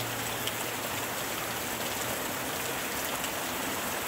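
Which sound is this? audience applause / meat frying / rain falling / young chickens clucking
rain falling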